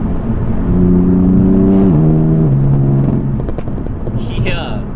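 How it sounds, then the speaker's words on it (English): A BMW M4 accelerates through gears, its engine note climbing and dropping in steps with each shift, heard loud from inside the car while people talk over it. "Especially like when you do the shifts, it makes like a fart noise."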